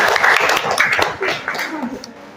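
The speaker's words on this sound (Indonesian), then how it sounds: "tepuk tangan untuk presentasinya Bapak ini" A small group applauds a presentation about a laundry business, giving a short patter of claps with voices talking over and around it.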